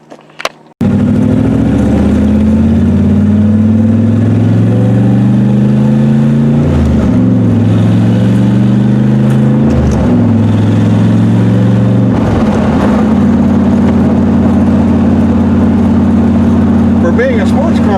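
A 1969 Corvette Stingray engine roars loud and close while driving off, rising through several gears with brief dips at each shift, then settling into a steady drone.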